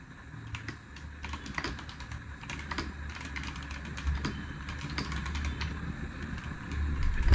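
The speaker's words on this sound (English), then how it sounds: "Here's a quick sound test of the keyboard." Typing on a Zebronics Zeb Max Ninja 200 wireless keyboard with stabilized larger keys, a quick run of close, soft clacking keystrokes in an uneven rhythm, with no talking.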